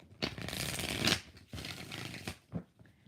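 Tarot cards being shuffled by hand in two long riffling bursts followed by a short flick, close and crisp with no talking.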